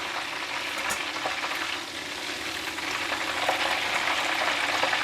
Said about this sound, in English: The prawns is cooked now, so I'm going to take it out from the hot oil and place it on the strainer like this.